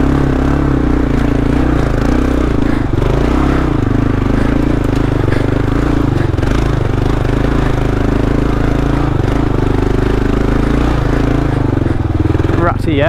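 Kawasaki KLR motorcycle riding a rutted singletrack trail, loud steady engine drone with rattling and scraping throughout, close and continuous.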